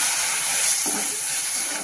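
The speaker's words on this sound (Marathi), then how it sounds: "आता आपण दूध टाकून घेऊ" Milk poured into hot moong dal sheera, giving a continuous hissing sizzle of steam that stays fairly loud and even throughout, with no talking.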